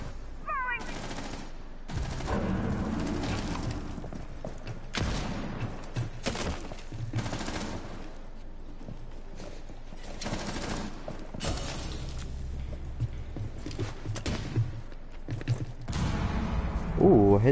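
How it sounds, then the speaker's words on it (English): A t-shirt cannon fires in Rainbow Six Siege gameplay on PS4, a run of loud, abrupt shot-like bursts separated by short gaps, with a louder burst near the end. "Listen to it. It's a t-shirt cannon."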